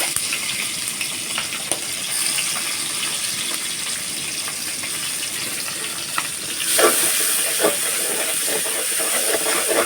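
Chopped onion goes into hot oil where whole cumin seeds are browning for a mixed vegetable dish. A steady close hiss and sizzle swells sharply partway through and stays louder.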